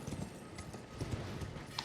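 Horse hooves clip-clop steadily in Elden Ring as the mount is ridden, a brisk, continuous rhythm of close thuds over ambient game sound.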